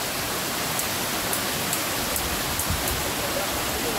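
Water wells up from below at a village spring in Konkan, a steady broadband rushing and bubbling that carries on without a break, near and fairly loud.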